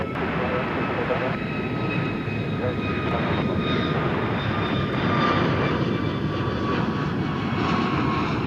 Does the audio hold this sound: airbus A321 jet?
yes